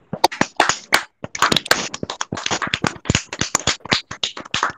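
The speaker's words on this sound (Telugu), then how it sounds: "చప్పట్లు కొట్టండి గట్టిగా" A church congregation clapping loudly during a sermon, sharp hand claps in a fast, slightly irregular rhythm, close and punchy with short gaps, no talk.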